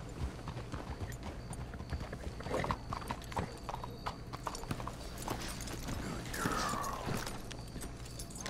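Horse hooves clip-clop steadily in Red Dead Redemption 2, a continuous trotting rhythm of several horses close by, with faint creaking, a brief whinny and occasional low talk mixed in.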